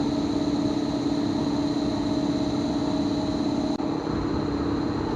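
A Koleje Dolnośląskie train at Wrocław Główny station gives off a steady mechanical drone with a strong low hum and high whine, unbroken and close, with one brief dip near the end.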